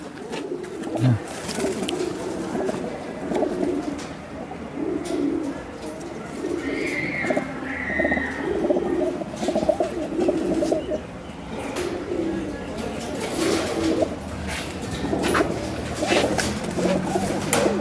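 Pigeons coo repeatedly in low, throaty bursts amid a busy outdoor background, with a brief higher bird call partway through.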